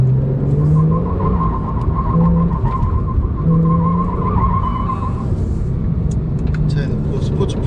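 A Porsche 911 Carrera (991 Mk2) driven hard under acceleration on a test drive, its engine droning loud and steady with tire noise throughout, while someone talks over it continuously.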